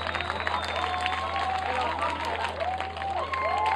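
Scattered applause and a few cheers from a live rock concert audience, fairly quiet beneath a steady electrical hum and some nearby voices.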